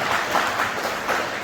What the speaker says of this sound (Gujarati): આપણે તાળીઓના ગણરાથી વધાવી લઈએ.